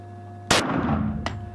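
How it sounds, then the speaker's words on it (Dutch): Two sharp sports-gun shots ring out outdoors, the first loud and followed by a lingering rumbling echo, the second briefer about three quarters of a second later, over a steady low hum. "Dat waren de twee schoten."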